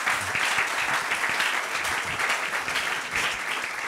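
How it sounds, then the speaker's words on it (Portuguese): Audience in a university auditorium in Portugal gives sustained applause, a loud, even roar of many hands clapping for several seconds without a break. "Portanto, uma salva de palmas."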